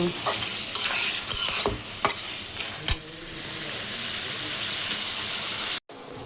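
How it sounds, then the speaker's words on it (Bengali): Stinging catfish is stirred into a spice paste in a pan, with sharp spatula scrapes and knocks over a bubbling sizzle that settles into a steady fry before cutting off abruptly near the end. "এখন এখানে আমি মাছগুলো দিয়ে কষিয়ে নেব"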